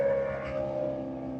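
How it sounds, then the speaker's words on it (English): A BMW M3 with a V8 engine and an IP exhaust holds a brief, steady, tonal exhaust drone that fades slightly over a second and a half. "That's probably one of the best sounding cars I've ever, at least best sounding V8s I've ever heard."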